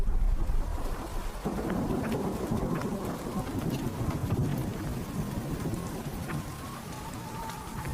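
Heavy rain pours steadily with low rolling thunder rumbling underneath, a dense continuous hiss from start to finish and no clear voices.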